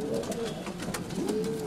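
Racing pigeons cooing at a pigeon race in Volos, Greece, a few soft, repeated coos over a steady outdoor background with faint voices nearby.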